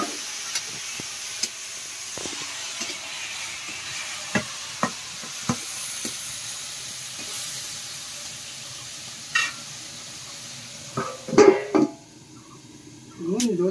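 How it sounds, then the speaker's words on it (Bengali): A vegetable curry sautés in a pan with chili powder and a splash of water, giving a soft steady sizzle punctuated by sharp scrapes and clicks of a spoon stirring, with a louder burst of sizzling near the end. "কষিয়ে নেবো তরকারিটা"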